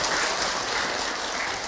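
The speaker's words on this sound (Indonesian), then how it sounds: "Tepuk tangan dong buat ibu yang bertanya." An audience at an Islamic religious lecture breaks into steady, dense applause that fills the moment evenly, with no voices over it.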